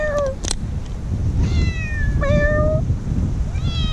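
A small scared cat meows several times, rising and falling tonal cries with a longer drawn-out meow near the middle, close and clear over low background rumble.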